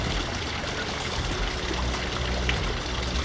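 A small garden waterfall in Sunken Gardens, St. Petersburg, Florida, splashes and trickles continuously in a steady, close rush of running water.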